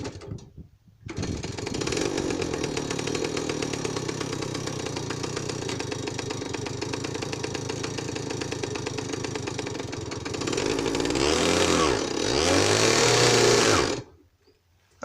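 A Jawa Typ 05 motorcycle engine runs steadily for a long stretch with a rapid, buzzing two-stroke beat, then revs up and surges near the end before cutting off abruptly.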